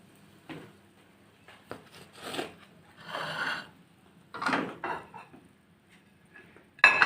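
Bazlama flatbread shifted onto a serving plate, giving a few soft scrapes and light clinks of dishware spread over several seconds, ending in one sharper close knock.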